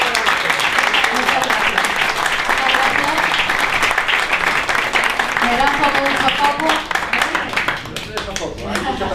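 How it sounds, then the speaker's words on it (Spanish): An audience at an eightieth-anniversary commemoration of the Popular Front victory gives a long, full round of applause. Voices mix in with the clapping, which thins out toward the end. "damos un fuerte aplauso por el trabajo que tienes"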